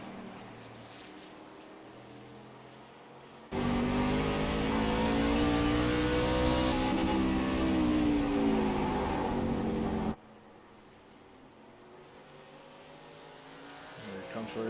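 Thunder Truck racing truck roars past on a timed hot lap, a loud engine surging in from quiet for about six seconds with rising and falling pitch, then cutting away abruptly to low background.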